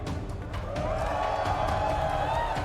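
A large arena crowd at the Halo World Championship 2022 in Seattle cheers and roars in a steady wash of sound, with the announcer's voice over it.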